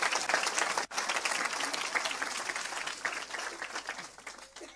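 A church congregation breaks into sustained applause for a newly baptized young man, a dense wash of clapping that stays loud throughout with one brief dip near the start.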